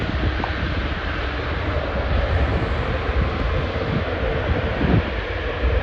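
Steady, loud jet engine roar from an Airbus A350 airliner passing close as it lands at Schiphol, a broad continuous rumble with no talking.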